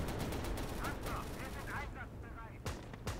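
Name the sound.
gunfire in video game Call to Arms: Gates of Hell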